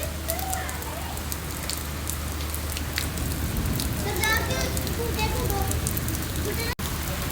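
Rain falling outdoors, a steady soft patter with scattered drops, continuous throughout, under people talking and children's voices.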